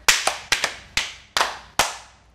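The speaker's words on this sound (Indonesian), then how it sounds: "tepuk tangan muter" Hand claps during a children's church clapping song where singers spin around, heard as about seven crisp, close claps, some in quick pairs, with nothing else.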